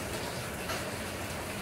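Steady rain pours down in Kerala, a dense, even hiss of drops on surfaces that fills the whole moment without pause.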